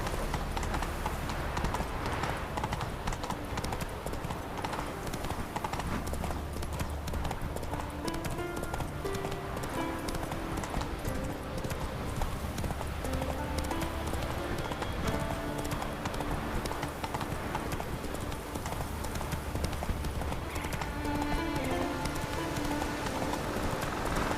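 Horse hooves of Roach clip-clopping steadily at a riding pace in The Witcher 3, a continuous rhythmic clatter with game music and ambience underneath.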